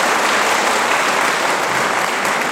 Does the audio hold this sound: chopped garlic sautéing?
no